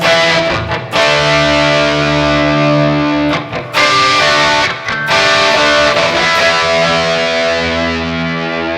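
Sustained, heavily driven electric guitar chords through a TC Electronic Hyper Gravity compressor ring out loud and thick, with two brief dips where chords are re-struck, no voices.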